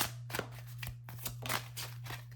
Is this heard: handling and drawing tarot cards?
yes